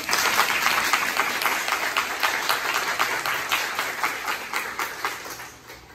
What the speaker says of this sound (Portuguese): Uma palmas para os vencedores